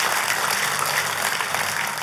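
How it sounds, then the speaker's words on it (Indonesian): A church congregation claps in steady, dense applause throughout, a continuous wash of many hands with no pauses. "Oh, kalau tepuk tangan, tepuk tangan yang meriah saudaraku."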